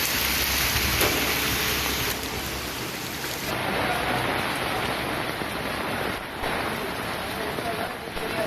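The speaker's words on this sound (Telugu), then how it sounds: "అటు తుఫాను ప్రభావంతో తిరుపతిలోనూ వర్షాలు పడుతూ ఉన్నాయి" Heavy rain falls in Tirupati during Cyclone Fengal, a dense steady hiss mixed with gusting wind that persists at an even level throughout.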